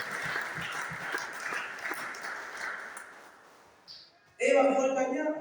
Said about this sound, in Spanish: Den un aplauso a Cristo y empieza conmigo